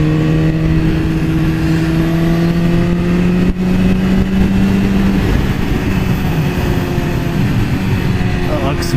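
A BMW S1000RR sportbike on a test ride, its engine holding a loud, steady high-revving tone that shifts and drops partway through, recorded up close with wind noise and a faint voice underneath.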